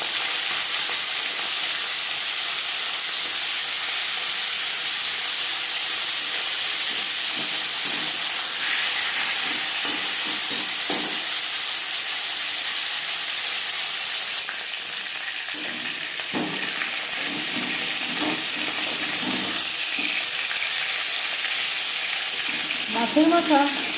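A fish head fries in four spoons of hot refined oil, giving a loud continuous sizzle and hiss that stays steady throughout, with a few faint clinks and shifts near the end and no talk.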